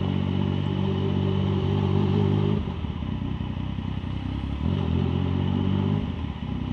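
A Yamaha MT-09 motorcycle rides through Malaysian traffic, its engine a loud steady drone close to the microphone, shifting from a smooth hum to a rougher, rattling tone partway through.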